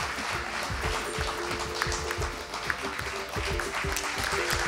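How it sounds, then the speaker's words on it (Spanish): An audience applauds at a television awards ceremony, a dense wash of clapping that stays fairly loud and steady, with a voice faintly audible underneath. "por favor, un aplauso para Maitas"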